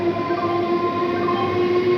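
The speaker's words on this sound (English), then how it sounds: "Through train will be passing from platform number 4." A through train passes platform 4 at Khardaha station with a loud, steady rumbling drone and sustained tonal hum filling the whole moment.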